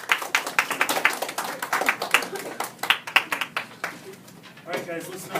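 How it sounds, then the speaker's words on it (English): Children in a classroom clap in an irregular, lively patter of close, sharp claps that fades out toward the end, with voices mixed in. "Hey, let's clap for Carson."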